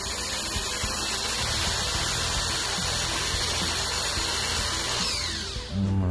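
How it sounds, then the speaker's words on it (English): A power drill bores holes into a polymer clay bottle shaped like a shrunken head, a steady close whine running continuously for about six seconds before winding down near the end. "I'm going to drill one underneath here."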